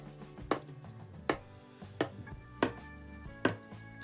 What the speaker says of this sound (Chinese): 咱们将豆腐切成大的豆腐块